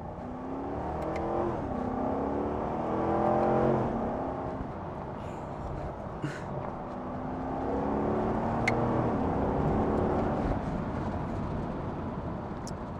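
C7 Corvette with a 6.2 liter V8 and automatic transmission accelerating, engine note climbing in pitch, dropping at quick shifts, then climbing again, heard from inside the car with no talk.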